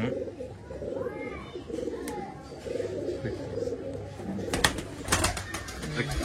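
Pigeons offered for sale in Bangalore coo in soft, rolling low-pitched phrases, several birds overlapping close by, with some flutter and brief rustling bursts near the end.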